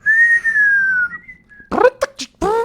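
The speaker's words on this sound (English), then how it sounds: "I can whistle, sort of." A person whistles a long, wavering, sliding tone, close and clear, followed by a short pause and then bursts of nearby talk.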